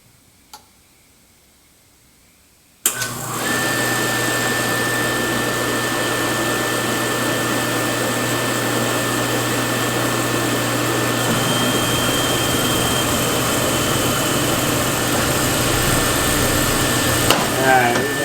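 A Lanair MX 200 waste oil furnace burner fires up abruptly after near silence, then roars steadily and loudly with a constant broadband blower hum and a faint tonal whine.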